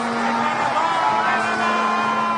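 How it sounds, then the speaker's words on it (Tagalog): A large crowd roars and shouts together in a continuous, dense mass of voices. "Sigaw ng mga tao."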